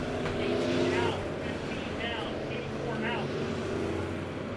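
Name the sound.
race cars racing at Monett Motor Speedway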